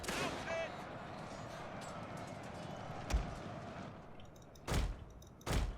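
Musket gunfire from troops in a Prussian historical strategy game: a few sharp, heavy blasts ring out, one near the middle and two close together at the end, over a steady battlefield din.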